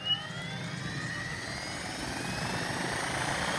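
An SAB Goblin Competizione RC helicopter lifts into its first hover, a steady whining turbine-like rotor drone with rising tones, fairly close and continuous throughout.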